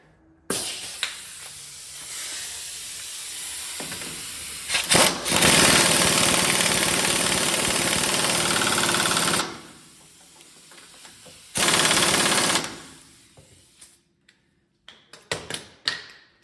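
An impact wrench tightens the pinion nut on a Dana 60 axle during a re-gear, firing in loud, close, rattling bursts: a long run of several seconds, then a shorter one, with scattered clanks of tools around them.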